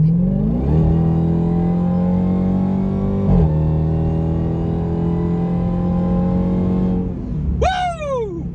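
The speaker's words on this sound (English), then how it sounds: "Never gets old in Durango Hellcat. Never gets old. Accelerate!" A Dodge Durango Hellcat accelerates hard through several gear shifts, its loud engine drone climbing steadily in pitch, ending with a brief whoop of excitement from inside the cabin.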